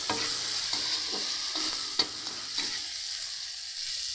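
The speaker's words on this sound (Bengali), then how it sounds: "চলুন ভালো করে এবারে ভেজে নিই।" Tomato fries in oil with a constant hiss, close up, while a spoon scrapes and taps the pan several times. The stirring stops in the last second or so and only the sizzle goes on.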